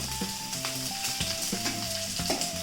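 Chopped ginger and garlic frying in a pan for a black chicken curry, a steady close sizzle with the clink and scrape of stirring against the metal.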